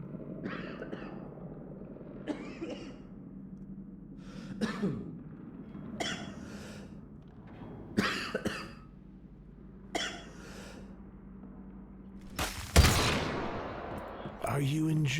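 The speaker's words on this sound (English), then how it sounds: "Why am I not hearing him cough?" A game character coughs repeatedly in the survival shooter Once Human, with about half a dozen short, rough bursts spaced a couple of seconds apart over steady ambient hum, followed by a loud sharp crack like a gunshot near the end.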